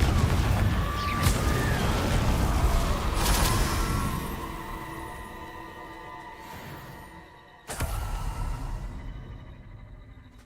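Confringo fire blasts from a wand in Hogwarts Legacy, a dense run of booming bursts over game noise for the first few seconds, fading, then another sharp loud blast hitting near the end.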